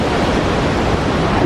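Iguazu Falls gives off a dense, steady roar of falling water that fills the air with an unbroken wash of noise, close and loud, with no voices.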